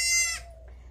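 A single goat on a farm gives a short, loud, wavering bleat that tails off into quiet rumbling background noise.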